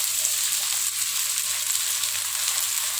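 Tauco, fermented soybean paste, fries in a pan with a steady, even sizzling hiss that holds throughout at moderate level, with no voices.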